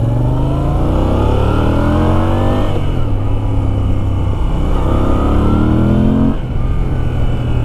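Close up, a Moto Guzzi V7 Racer motorcycle engine revs in rising sweeps, climbing in pitch, dropping back, then climbing again several times before settling to a loud, steady idle.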